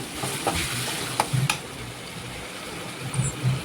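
Onion and tomato paste sautés in a pan with a little salt for a rajma vegetable kuzhambu, giving a steady close sizzle broken by a few sharp spoon clinks and scrapes.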